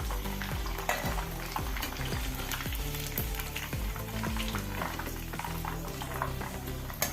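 Chicken pieces for chicken chilli frying in hot oil, a steady dense sizzle with repeated stirring scrapes and clinks of a utensil against the pan, close and continuous with no talking.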